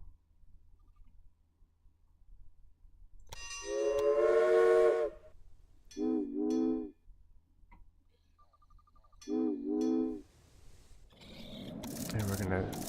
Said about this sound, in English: let's get our coffee train headed to Veracruz.